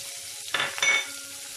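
Thick-sliced onions for a roadside-style vegetable salna hit hot oil in a pan, giving two short, close bursts of crackling sizzle. A quiet low hum sits underneath.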